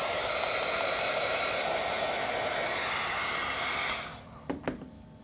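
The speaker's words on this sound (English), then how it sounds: "you can use a heat tool in order to dry your shape off" A heat tool blows steadily and loudly, drying Glimmer Mist spray on a lampshade, then cuts off just before the end, leaving a couple of faint clicks.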